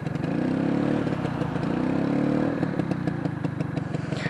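A classic Vespa scooter engine idling and revving close by, a buzzy mid-pitched drone that swells for the first couple of seconds and then settles into a rougher, pulsing putter.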